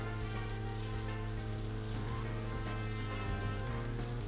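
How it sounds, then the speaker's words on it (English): Rain falls in the Deadly Premonition video game as a steady, soft, even hiss over a low hum, faint and unbroken throughout. "Alright. It's raining."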